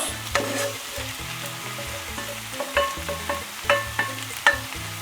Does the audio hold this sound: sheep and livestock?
no